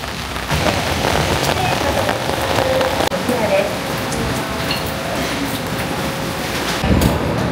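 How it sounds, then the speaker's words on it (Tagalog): Rain falls steadily in Kyoto on a wet morning, a dense close patter on surfaces that continues through the whole stretch, with occasional louder drops and a brief voice in the background. "It's raining."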